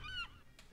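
A short honking bird call from a GMOD Prop Hunters game, most likely a seagull, sounding once as a brief bright squawk and then a faint second note, with no voices.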